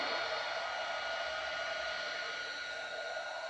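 A hair dryer blowing on handmade paper flowers to dry a watercolour effect, a steady, continuous airy whoosh held at moderate distance without pauses.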